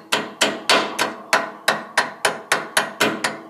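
A small hammer knocks a rusted-in pin off a lawn mower height-adjust wheel with about a dozen sharp metallic blows in an even, quick rhythm, close and loud with no talking.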